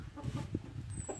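A chicken perched up on a rooftop gives a few short, low clucks in close succession, moderately near and fairly quiet, with no voices over it.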